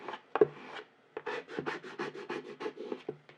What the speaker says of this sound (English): so now just scraping that down